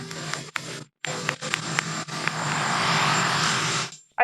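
Loud, steady helicopter rotor and engine noise close by, swelling over the last seconds after a few choppy, broken bursts of sound at the start.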